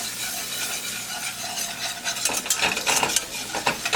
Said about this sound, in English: we're going to add 3 tablespoons of all-purpose flour to this. And we're just going to whisk this in